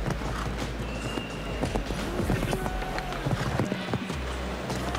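Hooves of a show-jumping horse clip-clop at a brisk, uneven pace, set against constant arena background noise and faint commentary voices.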